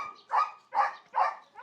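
A puppy gives three evenly spaced, fairly close barks in quick succession, clear and alone with no other sound.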